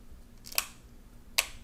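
Two sharp, separate plastic clicks sound as a Samsung Galaxy Note 4 mid frame snaps into place, close and crisp over a quiet background with no talk.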